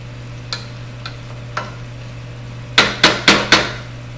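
A spoon stirring chicken cacciatore in a pan gives three light, evenly spaced taps, then four louder knocks in quick succession against a low steady hum.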